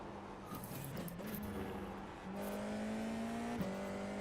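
An F4 open-wheel race car engine in the iRacing simulator hums steadily at a near-constant pitch, rising slightly and dipping briefly near the end, with tire noise beneath and no speech.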